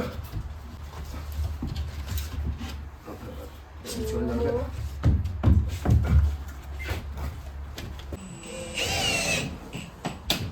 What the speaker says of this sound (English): There's a couple more screws going in there